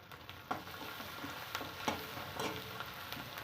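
Kharda chili paste and turmeric fry in oil with a faint, even sizzle, and soft taps from a stirring spoon come every second or so; no one talks.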